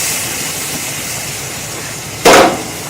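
Santa Maria style tri-tip sizzles on a grill as a steady, close hiss, then flares into a sharp, louder burst of sizzle near the end before settling back down.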